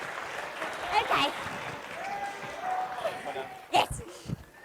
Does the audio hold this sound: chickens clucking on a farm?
no